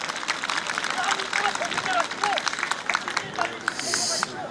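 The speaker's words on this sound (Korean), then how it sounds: "박수 많이 치세요 오늘." An outdoor crowd at the 36th Icheon senior sports festival in Korea claps steadily in a dense, continuous patter, with a voice on the microphone carrying over the clapping.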